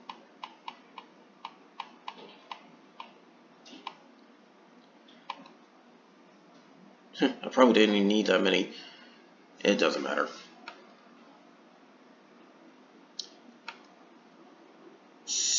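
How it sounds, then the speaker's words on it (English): Rapid mouse clicks while playing the Kamihime PROJECT R gacha, sharp ticks scattered through the first half, then a couple of louder bursts, with someone talking over parts of it. "You're going to hear a lot of clicking"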